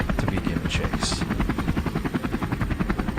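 A helicopter flies low over open ground during a wild boar hunt in cold winter, its rotor chopping in a fast, steady rhythmic pulse, close and loud throughout, with faint voices underneath.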